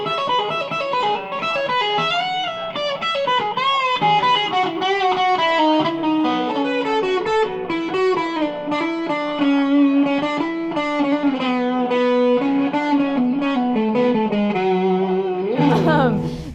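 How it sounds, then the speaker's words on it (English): An electric guitar plays through an inexpensive effects pedal on a sweep setting, giving a wah-like filtered tone over continuous, loud playing, with a rising sweep near the end. "it's gonna sound a little bit like a wah pedal because it's on this little sweep setting"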